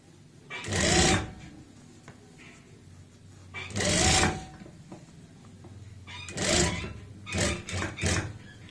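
A sewing machine stitches a kameez in four short runs, each a second or less, with quiet pauses between them.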